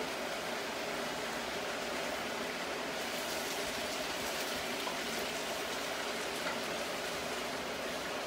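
Vegetables sautéing in a hot pan give off a steady, dense sizzle with a fine crackle, constant throughout and fairly close, with no talking over it.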